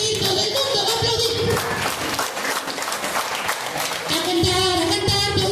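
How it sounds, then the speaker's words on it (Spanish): A children's birthday party audience claps along to a song led by a clown impersonator, with steady, dense clapping mixed with music and a voice singing throughout. "Aplaudir, todo el mundo va a aplaudir"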